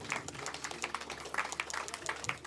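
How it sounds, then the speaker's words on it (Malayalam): Guests at a Kerala Christian wedding-eve celebration clap to welcome people onto the stage: scattered, fairly faint handclaps in an uneven rhythm, with no talking. "കൈയടിച്ചുകൊണ്ട് അവരെ നമുക്ക് വേദിയിലേക്ക് വെൽക്കം ചെയ്യാം"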